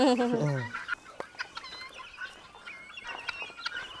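Rhode Island Red chickens on a poultry farm, starting with one loud nearby cackle and then many scattered short clucks from the flock, with faint voices underneath.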